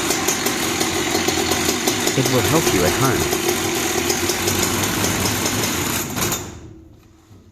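A Husqvarna 365 chainsaw engine runs steadily after starting, a loud continuous buzz with someone speaking over it, then cuts off abruptly near the end, leaving quieter fading noise.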